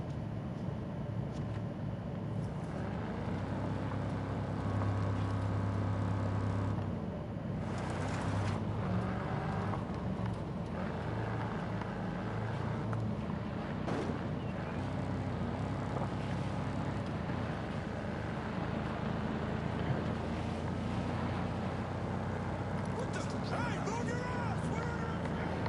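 A vehicle in Ghost Recon Breakpoint driving along, a steady low engine drone with shifting pitch throughout, under occasional talk.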